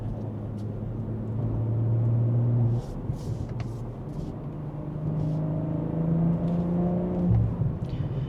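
A BMW M340i with a G2X 300-cell downpipe and resonated OPF delete drones at a low, steady exhaust tone under load in 8th gear, a smooth cabin hum with a slight rise and shift in pitch.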